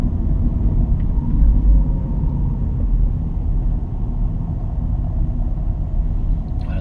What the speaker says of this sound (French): Je rétrograde.